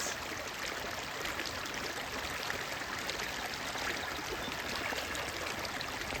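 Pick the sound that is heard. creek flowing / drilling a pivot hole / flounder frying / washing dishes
creek flowing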